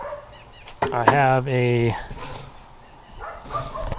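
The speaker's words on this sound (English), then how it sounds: "pardon the dogs barking, they're out in the country, there's a lot of dogs." Several dogs bark outdoors in the countryside, a brief loud burst of barks with a yip near the start, while someone talks over and after it.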